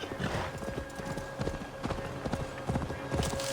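Horse hooves clip-clopping in the video game Assassin's Creed Valhalla, a steady brisk trotting rhythm of close, loud hoofbeats over open-countryside ambience, with no voices.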